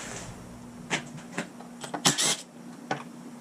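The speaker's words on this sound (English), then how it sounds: "Next we'll take the coils off," Someone works on the ignition coils of a 1978 Johnson 6 hp outboard motor. Scattered small metallic clicks and taps from tools and parts sound close by over a faint steady hum, with one brief louder rattle midway.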